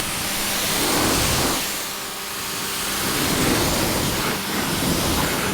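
A Ryobi pressure washer runs steadily while rinsing, giving a loud, continuous broadband hiss and motor drone that swells and dips slightly over a few seconds.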